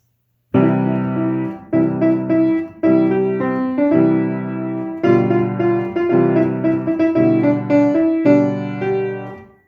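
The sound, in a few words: piano chords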